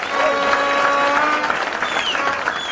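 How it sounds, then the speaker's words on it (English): Loud, continuous crowd clapping at a UDP political rally in Kenya, dense and unbroken, with faint whistles or cheers threading through. "We need to give you a big, big clap."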